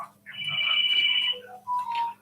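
A mobile phone ringtone chirps out a bright, repeating melodic tone during a live stream, fairly loud and close, with a short pause before a second burst of notes.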